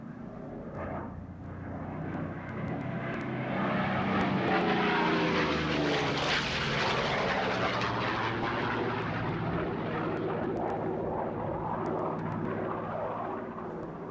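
A propeller fighter aircraft, armed with 20mm cannon, passes at the RAF Leeming Air Fair 1993, its engine drone swelling loud as it approaches overhead and then fading away.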